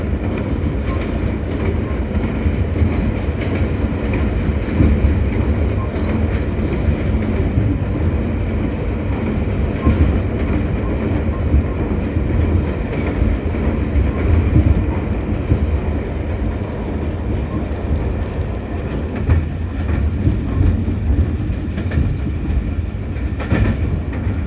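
Shalimar Express train rolling toward Bholari bridge, a continuous heavy rumble with rhythmic clickety-clack of wheels over rail joints, loud and close, with no talking.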